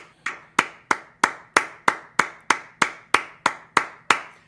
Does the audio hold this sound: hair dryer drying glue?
no